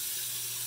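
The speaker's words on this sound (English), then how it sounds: "Pour that in." Water pours steadily into a new fish tank, a continuous wash of splashing and running water heard up close with no voices.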